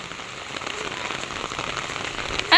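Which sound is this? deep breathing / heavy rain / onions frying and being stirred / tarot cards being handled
heavy rain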